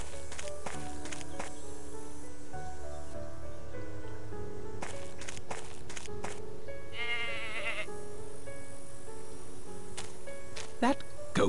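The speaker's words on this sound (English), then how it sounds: "That goat is a menace." Goat bleats inside a story-driven video game, heard as a short wavering cry around the middle against a busy game soundtrack of music and ambience, with a few sharp effects later.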